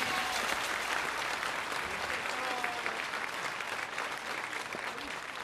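Sustained applause from an audience at a live folk music concert, cheering for the band at the Ilinden Days festival, dense and steady throughout with a faint voice in the background.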